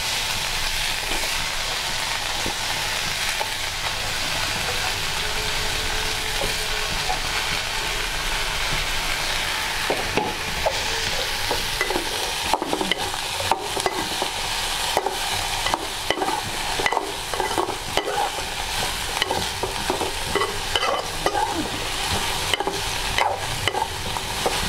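Broccoli stir-fried in a pan for South Indian home cooking, giving a steady sizzle and frying hiss throughout, broken in the second half by frequent sharp scrapes and clacks of a utensil stirring against the pan.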